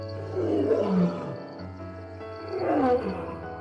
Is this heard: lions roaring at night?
yes